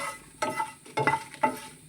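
Masala items fry in coconut oil for a Mangalore-style spinach curry, three short bursts of stirred sizzling and scraping in the pan, close and moderately loud.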